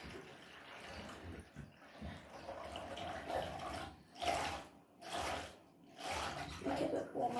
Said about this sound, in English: Let's put some warm water in there.